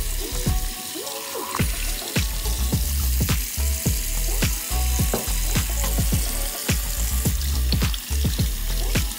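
Rocks are rinsed under running tap water in a sink, a steady loud splashing rush close by, broken by repeated clacks and knocks of stones being handled, with no talking.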